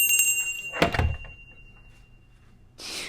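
A single door in a video game, heard close with a solid thunk as it shuts, followed by a brief, quieter whooshing slide a couple of seconds later, with no talking.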